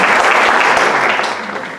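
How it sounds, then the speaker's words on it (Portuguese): Loud, dense applause from an audience at a Mastermind leadership event in Jaguariúna, a thick wash of clapping that holds steady before easing off toward the end. "uma salva de palmas para a equipe Mastermind da Fundação Napoleão Hill"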